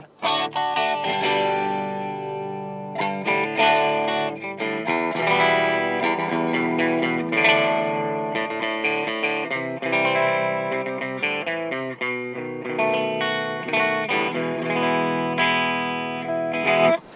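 Electric guitar played through the clean channel of a Krank Revolution SST amplifier with tube preamp and solid-state power amp, ringing chords and single notes with a slight chorus-like shimmer, continuous and close.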